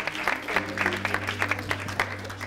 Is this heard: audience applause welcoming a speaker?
yes